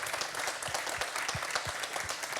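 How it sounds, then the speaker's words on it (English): A live audience applauds steadily for about two seconds, dense even clapping welcoming a Bloomberg journalist onto a stage at a financial markets talk. "please welcome, with a nice round of applause,"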